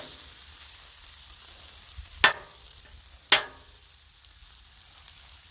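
Beef stir fry sizzles on a Blackstone griddle, making a soft, continuous frying hiss broken by two sharp metallic spatula scrapes against the flat top, with no talking.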